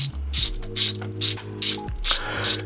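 Ratchet wrench clicking as a bolt is driven into the valve cover of an MK4 GTI, heard close up in five or six quick bursts of rapid pawl clicks separated by short pauses, with a steady low hum beneath and no voices.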